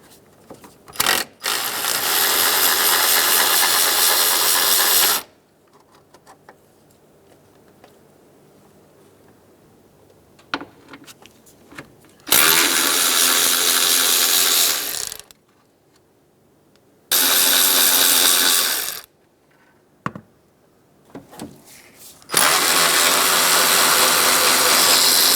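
Ratchet wrench working four 10 mm bolts off the cooling fan of a 2007-2015 Mazda CX-9 during A/C condenser replacement: several loud bursts of rapid clicking, each a few seconds long, separated by quiet pauses.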